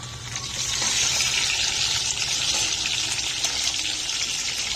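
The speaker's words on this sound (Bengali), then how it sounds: "এবার দিয়ে দেবো টমেটোটা, ভাজা হয়ে যাবে তেলের মধ্যে।" Tomato hits hot oil in a pan for a mixed vegetable curry, setting off a loud, continuous sizzling hiss that rises quickly and holds steady up close.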